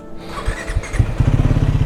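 Motorcycle engine running close by on a long ride toward India's easternmost village, idling with a rough pulsing throb that settles into a rapid, even rhythm.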